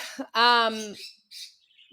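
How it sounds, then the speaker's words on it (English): Pet parakeets chirp close by in a home, making a short burst of bright, tonal calls, one longer harmonic squawk-like chirp and a few fainter trailing tweets, with no voices. "She has parakeets apparently, along with emus."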